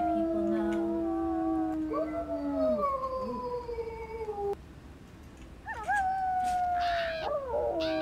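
Several wolves in WolfQuest howl in long, sliding, overlapping tones, fairly close and clear. Layered cries rise and fall over about eight seconds with a short pause partway through.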